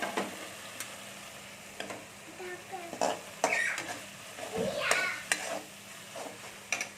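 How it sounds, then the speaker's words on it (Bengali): Spice paste fries in oil in a pan for okra pachadi, a faint, low sizzle broken by soft stirring scrapes and clicks at close range. "এই দেখুন আমার ভাজা হয়ে হয়ে এসছে, এটা মশলা দিকে তেল ছাড়ছে আস্তে আস্তে।"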